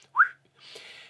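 A person gives one short, rising whistle up close, followed by a breathy, hissing exhale.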